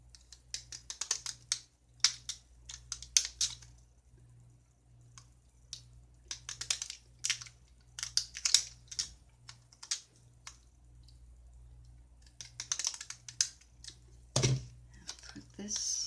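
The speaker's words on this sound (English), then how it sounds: "Take those same scissors, cut this out" Scissors snip in quick bursts of crisp clicks separated by short pauses, quiet and close, over a faint steady hum.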